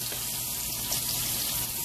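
Steady hissing stream of water pouring into a pot, continuous and even throughout, fairly close with no talking.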